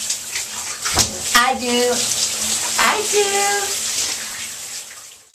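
Shower water runs steadily in a bathroom, a continuous close hiss of spray that carries on beneath voices talking and answering.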